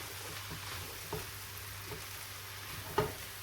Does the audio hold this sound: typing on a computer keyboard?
no